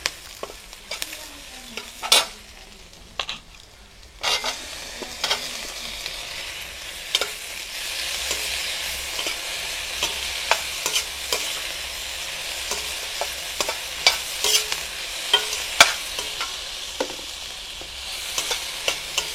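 Onions and tomatoes sautéing in a pan for spicy kara chutney for a morning idli breakfast, with steady sizzling and repeated spatula scrapes and taps throughout.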